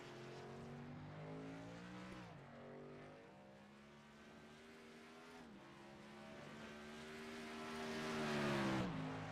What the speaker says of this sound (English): This just shows how hard these trucks are to drive down into heavy braking, down into this second set of S's.